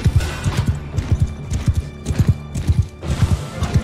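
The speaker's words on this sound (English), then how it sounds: "What is this, an Aseraian horse?" Galloping hooves of an Aserai horse in Mount and Blade II Bannerlord, a rapid clip-clop rhythm in repeated bursts with a brief whinny, loud and close, with no talk over it.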